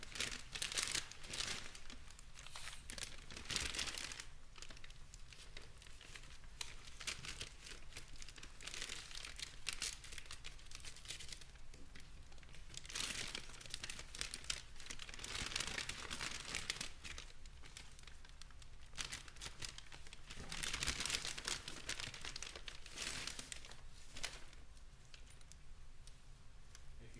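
The sealed plastic evidence package holding keys and two wallets is torn open and handled in a courtroom, giving off repeated crinkling and tearing bursts with faint rustling between them over about half a minute.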